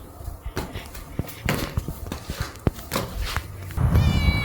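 A cat meows in a passage near a church, with quick footsteps and shuffling close by and a brief low rumble near the end.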